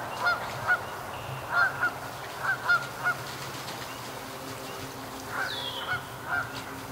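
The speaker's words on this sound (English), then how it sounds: "there's a goose in the yard right now" A goose honking in a backyard, a run of repeated loud nasal honks in uneven bursts, some paired, close by over quiet outdoor background noise.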